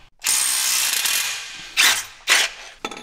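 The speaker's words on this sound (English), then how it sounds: "we'll take these three 18 millimeter bolts off" A ratchet wrench clicks steadily as it backs out long 18 mm pressure plate bolts during a Mazda Miata clutch install. There is a long continuous run of ratcheting, then two shorter louder bursts and a brief final one, with no talk.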